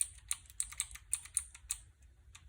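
Keys clack on a Redragon K552 keyboard with Cherry MX Blue switches: a quick, uneven burst of sharp, close clicks, quiet overall and with no talking.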